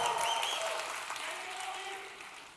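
Crowd at an international bar show cheering and clapping, a broad roar of applause with whoops over it, steady and loud before easing off slightly toward the end.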